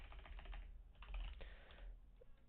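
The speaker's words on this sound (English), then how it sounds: "Now, I'm not usually this bad at typing, but I have a huge mic going across my arm, so it makes it harder to actually reach for the keyboard." Rapid, uneven typing on a computer keyboard, with bursts of close key clicks and short pauses, the typist slowed by a large microphone across the arm while coding a Discord bot. No one speaks.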